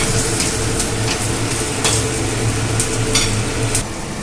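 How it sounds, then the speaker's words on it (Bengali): Egg and semolina fritters fry in a little oil while a spatula presses them down, giving a steady close sizzle with a few sharp taps and scrapes and no voices. "আবার একটু চেপে চেপে এইভাবে ভেজে নেবেন, তাতে ভাজাটা কিন্তু ইভেনলি হবে।"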